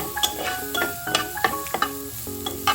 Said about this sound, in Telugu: ఒకసారి వీటిని కలుపుకోవాలి, వాడకుండా కలుపుకోవాలి.